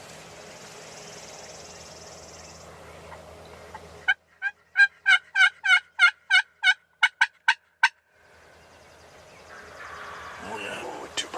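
Several wild turkeys, a group of young jakes, gobbling in a rapid burst of about a dozen loud, pulsing calls fairly close by, with quiet outdoor background before and after.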